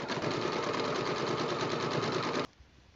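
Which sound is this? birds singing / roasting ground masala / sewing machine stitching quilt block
sewing machine stitching quilt block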